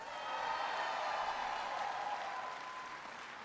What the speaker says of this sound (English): Everybody give Jordan a big round of applause.